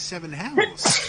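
A person sneezes once, loud and close, right after a voice speaks briefly; the burst is sharp and breathy at the end.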